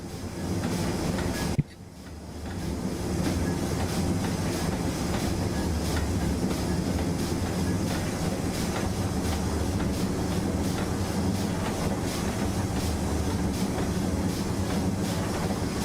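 Locomotive in Train Simulator easing off on a light throttle notch at Malmsbury and starting to slow, with a steady loud rumble and rhythmic clickety-clack of wheels throughout after a brief dip near the start.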